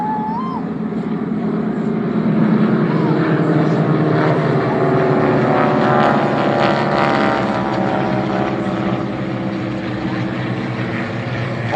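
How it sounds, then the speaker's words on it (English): Restored mini aircraft make a low-level pass east to west over a park at an auto festival, their propeller engines droning loudly and swelling as they pass, with faint crowd voices underneath. "All fully restored mini aircraft."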